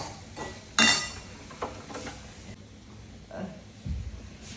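Tomatoes being sautéed in a pan, heard as a few metallic clinks and scrapes of a spoon against the pan. The knocks are spaced apart over a faint background, with no steady sizzle.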